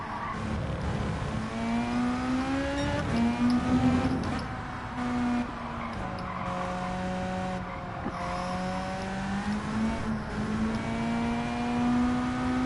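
A Honda NSX races in Gran Turismo 7, its engine note rising and falling through gear changes with steady revving and brief tyre squeals, moderately loud and continuous with no talk.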